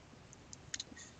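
A mouse click while saving a discount in an online store's admin panel, a few faint, brief ticks close by in a quiet room.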